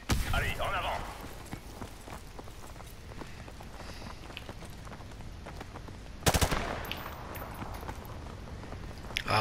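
Rapid bursts of gunfire from the video game Call of Duty Modern Warfare Remastered, dense repeated shots with a sharp loud burst near the middle, set against busy game noise and occasional talk.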